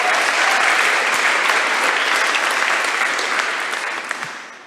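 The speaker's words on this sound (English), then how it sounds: "So just give them another big round of applause for being here today." Big, loud round of audience applause for partners and sponsors at a startup demo day, dense continuous clapping that slowly thins toward the end.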